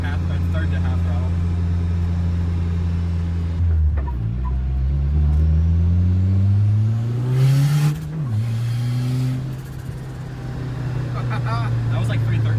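A Nissan S13 with a new turbo idles loudly, then revs at about three-quarter throttle. The engine dips, climbs in a long rising sweep, drops back and settles into a steady, close idle.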